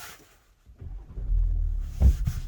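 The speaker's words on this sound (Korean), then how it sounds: "일단 엔진 소리를 한번 들어보시면요," A 2023.5 model-year 48V hybrid car engine idles low and steady with a deep rumble, swelling briefly louder near the end, heard close from the passenger seat.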